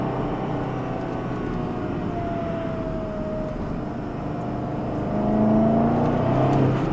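A stock 2011 BMW X5 M pulls hard in second gear, its engine note rising steadily for several seconds as a loud, continuous drone from inside the cabin that swells louder near the end.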